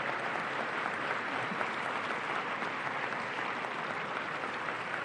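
A lecture audience applauding, dense even clapping from a large crowd that holds steady throughout without fading, no talk over it.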